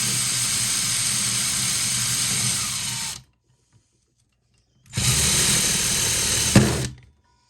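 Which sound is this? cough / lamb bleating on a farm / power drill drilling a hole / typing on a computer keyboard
power drill drilling a hole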